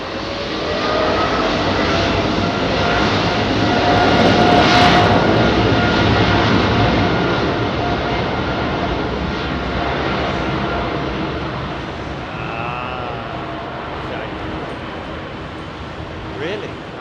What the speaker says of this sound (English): It's a 777-200, but not a freighter.